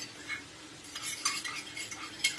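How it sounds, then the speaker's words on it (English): Food is stirred in a pot on a quiet scale: soft, irregular scraping and faint utensil knocks come close by, with no voices. "I'm gonna give this a nice stir."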